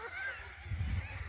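A flock of white parrots calls at Manning Park, Western Australia, with a dense chorus of harsh honking cries swelling in the second half over steady outdoor background noise.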